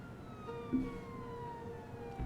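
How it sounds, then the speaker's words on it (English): Police sirens wail far off in the Jenny LeCLue video game, faint, steady tones gliding slowly downward across the background with no talk. "Jenny could hear police sirens in the distance."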